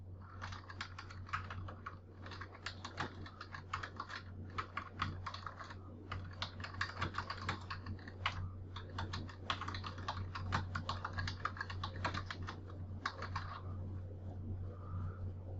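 Rapid bursts of typing on a computer keyboard, close and clear, with short pauses between runs of keystrokes over a low steady hum.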